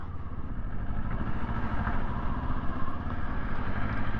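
A Kawasaki Ninja 500 SE motorcycle from 2024 idles close by in a downtown street, its engine giving a steady, even low rumble with light mechanical clatter and no voices.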